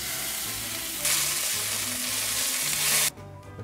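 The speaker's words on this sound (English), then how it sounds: "The pan is preheated, so I'm going to go ahead and throw them in now." Thick-cut applewood smoked bacon sizzles loudly in a preheated pan, a steady broadband crackle that swells as the strips go in, with low background hum and a sudden drop near the end.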